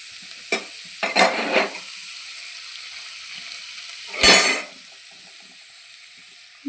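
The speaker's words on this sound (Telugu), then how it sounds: "ఒకసారి ఇలా కలిపి మగ్గనివ్వాలి" Chopped tomatoes cook for a curry in a pan, stirred in a few short scraping bursts over a low, quiet sizzle, with no voices.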